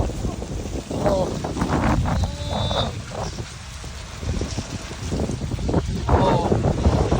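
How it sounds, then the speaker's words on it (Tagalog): Blustery outdoor wind on an autumn day roars and buffets steadily, with voices calling out through the gusts. "Sobrang hangin ah."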